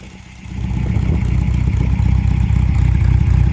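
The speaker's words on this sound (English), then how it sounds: "As you can hear, it's ticking over quite happily." A 1978 MG MGB Roadster, restored and warmed up, idles steadily up close, its engine starting into an even, rhythmic low burble with light mechanical ticking.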